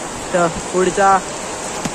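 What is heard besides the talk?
heavy rain falling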